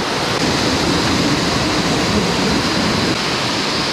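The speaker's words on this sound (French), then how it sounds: "la chute d'eau est vraiment pas loin de l'entrée" Steady, loud rushing water from a waterfall near a park entrance in Thailand, a dense continuous roar with no pauses and no voices.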